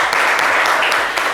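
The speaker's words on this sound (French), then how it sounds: "Merci à Vessonique, on va applaudir." Brief, dense burst of clapping from a studio audience on a television talk show, loud and close.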